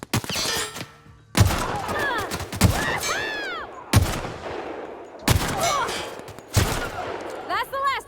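Loud bursts of gunfire in the video game The Outer Worlds, several sharp volleys spaced a second or so apart with ringing decays and ricochet-like whines between them, up close and dominant.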